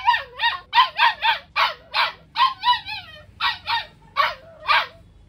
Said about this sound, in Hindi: जर्मन शेफर्ड की फीमेल पपी है जो कि सुपर टॉप क्लास की है।